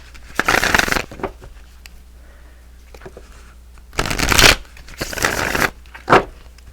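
Tarot cards being shuffled in several separate bursts of crisp riffling, close and fairly quiet, with short pauses between them.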